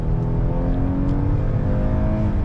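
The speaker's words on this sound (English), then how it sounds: "It really redlines the gears and just kind of takes a while to shift." A 2023 Hyundai Palisade Calligraphy AWD engine revving toward redline under hard acceleration, a loud, close, sustained rising drone heard from inside the cabin.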